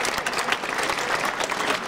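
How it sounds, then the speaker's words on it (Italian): Applause from the crowd at a night running race award ceremony in Legnano, brisk continuous clapping at steady volume throughout the brief moment. "Beh, un bel applauso, che se lo merita"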